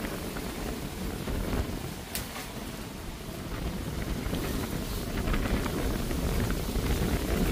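Strong wind with light rain outdoors: a loud, steady roar of gusting wind buffeting the microphone, swelling toward the end, with a faint patter of rain and no voices.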